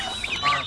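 A farm goose honks loudly and close by, a short nasal call with a couple of quick rising notes.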